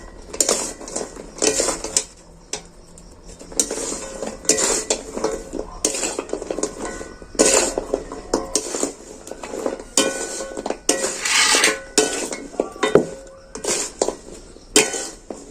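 A spoon stirs fried flour sticks through melted jaggery in a pan, with steady scraping and repeated metallic clinks and clatters against the pan, close up and without talk.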